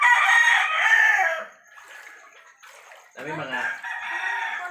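Domestic chickens during a December 2021 flood aftermath from Typhoon Odette, with a rooster crowing loudly and close for over a second, then quieter clucking and a voice speaking briefly before the fowl calls resume.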